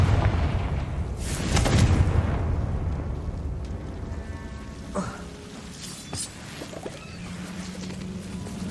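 A Confringo blasting curse goes off in the video game Hogwarts Legacy, a loud rumbling explosion with a burst near the start, then a fading roar under smaller pops and crackles.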